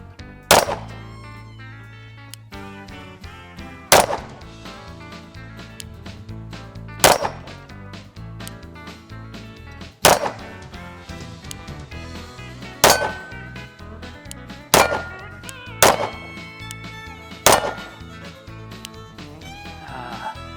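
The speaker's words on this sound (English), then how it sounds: "And let's try to clear this rack off. Here we go. And I missed that great big target." Arex Delta Gen 2 pistol shots fired at a steel target rack: eight loud, sharp reports spaced a couple of seconds apart, each followed by ringing metallic clangs of hits on steel, with no talking.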